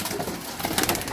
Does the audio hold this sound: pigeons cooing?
yes